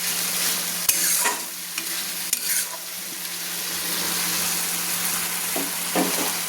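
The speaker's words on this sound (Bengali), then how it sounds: "এইভাবে চিকেনটাকে আমি কষিয়ে নিচ্ছি, সুন্দর করে মশলার সঙ্গে কষিয়ে নিচ্ছি।" Chicken stir-fried with spices in a pan for a cauliflower chicken dish, a steady close sizzle broken by a few sharp scraping stir strokes and utensil knocks.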